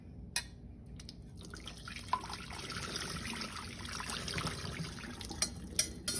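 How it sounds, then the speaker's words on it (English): Cooked tapioca pearls draining through a strainer over a saucepan, a soft steady trickle of water with faint drips and a few light metallic clinks, close and quiet. "take your saucepan and your strainer and place the pearls in the strainer so that they don't"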